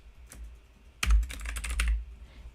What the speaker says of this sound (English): I could just go up here and start typing like